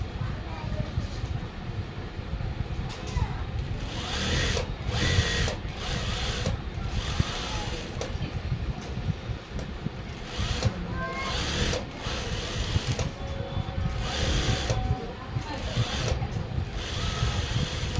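A sewing machine stitches the edge of a blouse in a continuous mechanical whir. It comes in repeated runs broken by short pauses, close and moderately loud, with a person talking over it.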